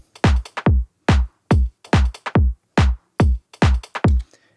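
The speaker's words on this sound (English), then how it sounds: "Next I have these closed hi-hats, sounds like this." Closed hi-hat samples in an FL Studio house drum pattern tick in a quick, slightly swung loop, with short crisp hits grouped in pairs and varying loudness, alone with no talking.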